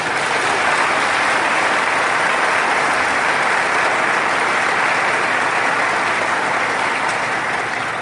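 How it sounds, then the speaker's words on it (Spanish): A church congregation at a charismatic renewal gathering applauds. The clapping is broad, dense and steady, loud and continuous with no pauses. "Vamos a brindarle un fuerte aplauso a Jesucristo."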